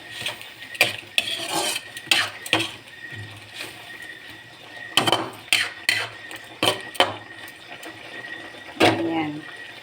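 A spoon stirs a cooking pot after Sprite and bay leaves are added, with scattered scraping and clinking of utensil on metal at close range and a voice talking at times.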